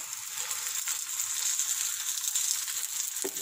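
A chapatti fries in hot ghee on a pan, a steady bright sizzle that holds close and constant from start to finish, with a soft scrape near the end.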